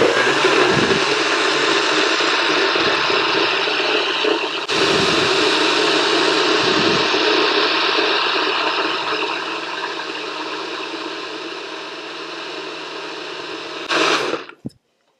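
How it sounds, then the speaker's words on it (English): A kitchen blender blends a fruit smoothie in one loud, steady roar for about fourteen seconds, its pitch dipping briefly at moments, before the motor cuts off abruptly and leaves silence. "And I'm just going to blend this up."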